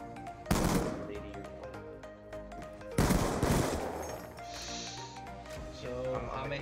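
Automatic gunfire in a Call of Duty Black Ops 2 one-on-one match, with two loud bursts of rapid shots over continuous game music and effects, and people talking alongside.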